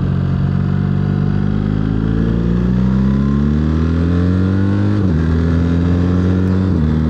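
A 2025 BMW R 1300 GS motorcycle accelerates hard on a Pennsylvania road, its engine note climbing steadily and dropping briefly at two quick gear shifts, loud and close with wind rush.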